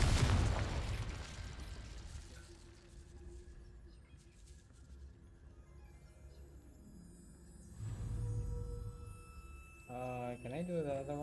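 A Confringo fire spell from the Hogwarts Legacy game bursts with a loud opening blast, then rumbles and fades, followed by a second swell of impact noise and a rising magical whoosh near the end.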